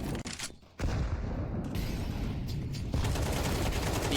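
AK rifle gunfire in a Counter-Strike match, a short burst of dense, loud shots breaking in after a quieter start and then continuing as sustained heavy firing and game noise.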